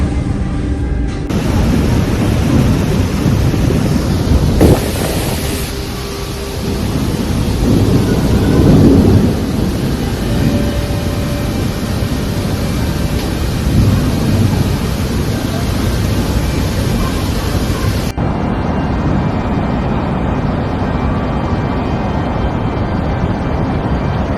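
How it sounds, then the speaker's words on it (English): Heavy rain roars steadily through a thunderstorm in Guangdong Province, China, with low rumbling thunder rolling under a dense, continuous wash. "Prolonged heavy rains in Guangdong Province, China, caused floods and landslides"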